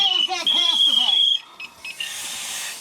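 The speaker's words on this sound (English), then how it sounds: "it hits that alarm stage, it will continue to sound until it's reset" A firefighter's PASS alarm on SCBA gear emits a loud, sustained high-pitched electronic tone under a speaking voice, then cuts off, leaving softer hiss and brief beeps.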